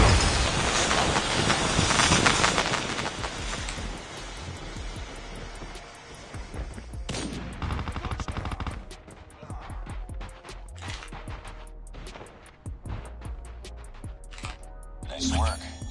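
Mini Uzi submachine gun in its QXR Surgical Incision build in Call of Duty Mobile, rattling off rapid bursts of automatic fire in the latter half, with game voices and other game sounds underneath.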